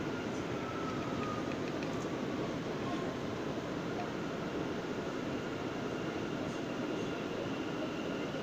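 An R179 J local subway train rolls through New York with a steady loud rumble of wheels and car body heard from inside, a constant roar with faint squeals and occasional clanks.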